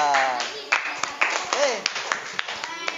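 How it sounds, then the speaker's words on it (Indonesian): Students in a classroom clap in a scattered, uneven patter of sharp individual claps, moderately near, with a voice talking over the start. "Oke, tepuk tangan."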